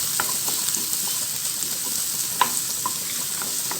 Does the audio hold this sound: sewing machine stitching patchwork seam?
no